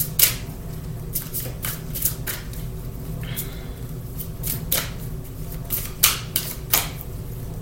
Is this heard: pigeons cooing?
no